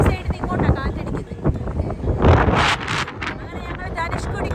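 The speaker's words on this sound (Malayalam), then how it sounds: "ഈ സൈഡിൽ നിന്ന് ഇങ്ങോട്ടാ കാറ്റടിക്കുന്നത്" Strong coastal wind at Dhanushkodi, near Rameswaram, buffets the microphone in loud, uneven gusts and roaring surges, with a voice heard faintly under the rush.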